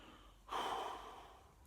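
Heavy breathing from a person who is overweight and short of breath, a single loud exhale bursting in after a quiet moment and then trailing off, close and alone without talk.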